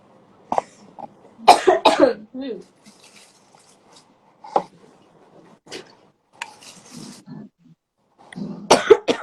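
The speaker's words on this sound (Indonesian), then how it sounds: "batuk lagi aku" Several harsh coughs in short bursts, with throat clearing and a few quiet words in between, close and fairly loud.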